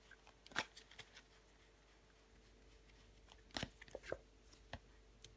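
Tarot cards being laid down one over another make faint, soft papery slaps and brushes, a few scattered light taps in an otherwise quiet room.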